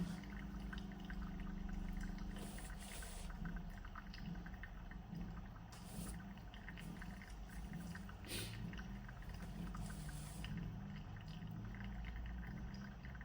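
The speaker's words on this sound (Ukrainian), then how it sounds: "Давайте на хвилині 50 додамо ще водички." Water is poured steadily over a slow T92 coffee filter in a pour-over brew, a soft continuous trickle heard up close and quietly for the whole stretch, with no talking.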